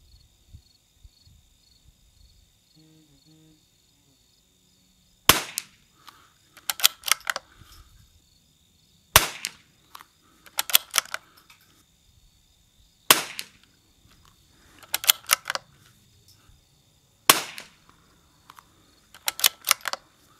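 A rimfire sporter rifle, a Savage Anschutz or CZ455, fires downrange on a windy range: four sharp, loud shots spaced a few seconds apart, each followed by quieter mechanical clicks of the action.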